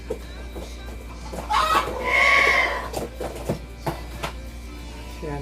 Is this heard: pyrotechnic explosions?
no